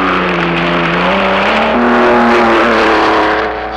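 A 1948 Ferrari V12 race car engine drones loud and close, its pitch climbing steadily and holding high as though the car accelerates along the circuit, with no other sounds over it.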